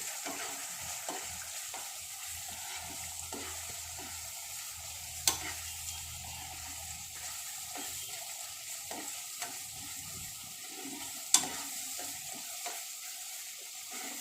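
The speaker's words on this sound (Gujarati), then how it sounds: "હવે એને સારી રીતે આપણે મિક્સ કરી લઈશું" Pav bhaji being stirred in a pan after chaat masala and pav bhaji masala are added: a steady, close sizzle of frying with a soft scraping stir and a couple of sharp clinks of the spoon against the pan.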